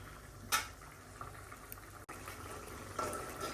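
A pot of poa fish curry with mustard paste bubbles and simmers in a quiet steady seethe, broken by a few sharp pops and a brief clink of a utensil against the pot.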